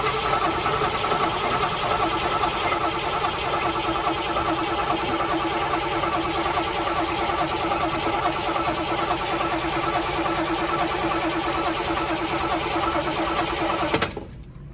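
A 1966 Chevrolet El Camino engine cranks over steadily on the starter for a long stretch, a loud, even rhythmic churn close by that fails to catch and stops abruptly near the end.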